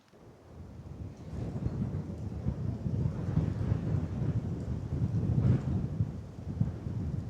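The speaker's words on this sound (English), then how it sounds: "Still windy." Steady gusting wind in the Mojave Desert buffets the microphone with a low rumble, rising and falling continuously and alone without talk.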